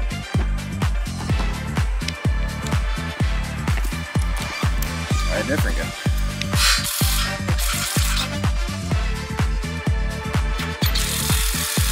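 An impact driver hammers an anchor in while a metal shed is assembled, loud rapid rattling bursts pulsing rhythmically and continuously at close range, with metallic clatter mixed in.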